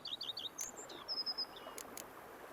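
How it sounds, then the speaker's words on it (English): Birds chirp in a peaceful outdoor scene in The Witcher 3: Wild Hunt video game. Several quick, bright trills and tweets come in short bursts, fairly faint over a soft ambient background, with no talking. "bees buzzing, birds chirping"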